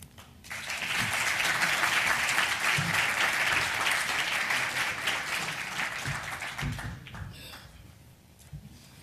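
An audience at a luncheon talk bursts into sustained applause to welcome the speaker, a dense wash of clapping that swells quickly, holds for several seconds, then thins out near the end.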